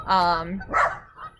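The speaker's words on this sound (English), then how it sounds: "Sorry, that's my dog, Ziggy." A pet dog gives a short bark, then a couple of softer yips and whimpers nearby indoors, with nobody talking over it.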